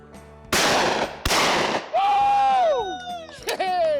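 Two sharp, loud shotgun blasts ring out in quick succession at an outdoor sporting clays course during a competition round, each with a short ringing tail, followed by excited cheering voices.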